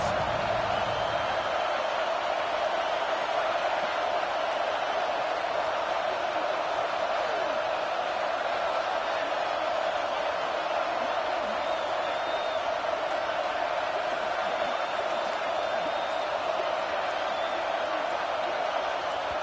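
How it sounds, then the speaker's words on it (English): Stadium crowd noise in a college football video game between Ohio State and Clemson, a constant dense roar that holds steady throughout. "this crowd is making it miserable on this offense."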